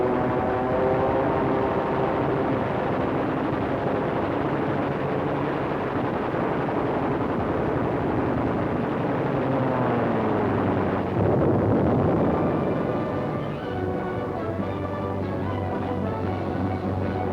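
Wartime aircraft strafe a retreating German army, with a continuous loud drone of engines layered with roaring rumble and a rising swoop near the middle, sounding like an archival battle soundtrack.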